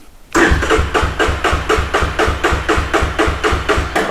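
A restomod vehicle's engine catches after a choked start and settles into a loud, close, steady chugging idle with an even pulsing rhythm.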